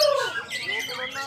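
Bright, varied song of an oriental magpie-robin at a songbird contest, with quick whistled phrases and chirps, fairly close and loud, with faint voices in the background.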